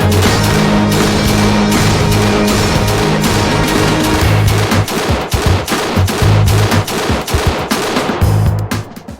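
Loud, sustained bursts of machine gun fire at an indoor Las Vegas shooting range, rapid rhythmic reports overlapping almost continuously, with several weapons firing close by.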